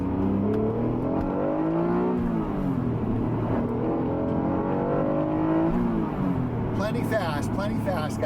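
An Acura NSX fitted with an aftermarket exhaust accelerates from inside the cabin, its engine note climbing and rising in pitch through the gears, loud and steady, with a person talking over it.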